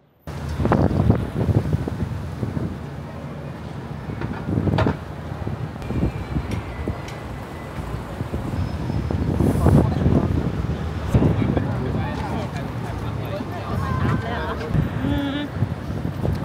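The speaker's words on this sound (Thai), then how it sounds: "ลมตะพัดตะพือ" Strong wind gusts buffet the microphone on a Chicago street near Lake Michigan, a continuous loud rumble with repeated louder blasts, while someone talks over it.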